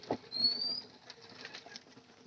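Pigeons being fed corn flap their wings in a brief, faint flurry of soft fluttering, with light ambient rustle and no speech.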